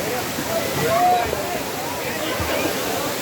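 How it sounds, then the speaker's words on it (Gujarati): Rainwater runs down from a hill into a temple bathing pool during the monsoon, making a steady rushing, splashing flow close by, while a person talks over it. "અહીંયા બધું વરસાદનું પાણી ઉપરથી પાણી ચાલુ આવે"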